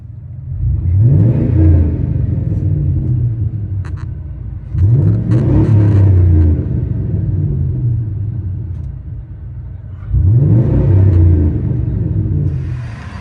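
From inside the cab, a 2007 Chevy Silverado 6.0L V8 with a Dynomax Bullet muffler revs three times, each surge a deep loud rumble that eases back toward idle.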